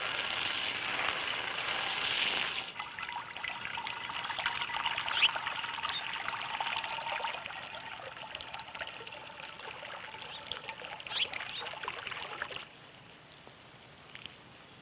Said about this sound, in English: every day they clean the bowl and fill it with fresh water